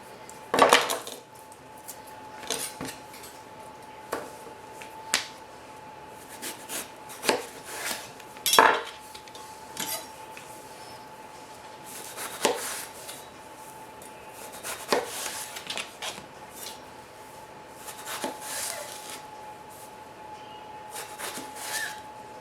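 A knife cuts through eggplant on a cutting board: sparse, light knocks and scraping taps at an unhurried, uneven pace, fairly quiet and close, with no talking.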